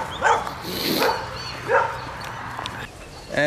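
Dogs at an outdoor dog park give a few short barks and yips spaced through the moment, moderately near, with some voices under them.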